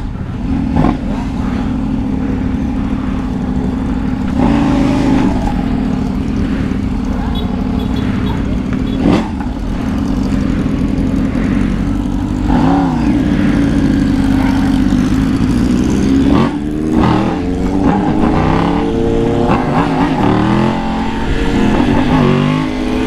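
A motorcycle engine with a modified, pre-cut exhaust rumbles continuously with revving swells and passing bursts, loud and close, with some background noise mixed in.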